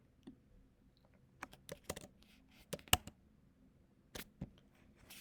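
Scattered keystrokes on a computer keyboard while entering a code: irregular single and paired clicks, close and fairly quiet, over a low background hum.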